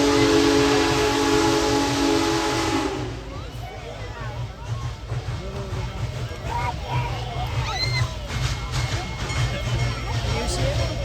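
Union Pacific Big Boy 4014 steam locomotive at a crossing in Continental, Ohio, with a loud whistle blast over hissing steam in the first seconds, then rumbling steam and the chatter of a crowd.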